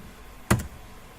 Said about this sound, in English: I'm going to type key scan